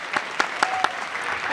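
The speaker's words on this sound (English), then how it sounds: "Let's give them a big round of applause." Audience clapping for a conference alumni panel, a steady wash of hands with a few sharper claps standing out near the front, brief and fairly loud.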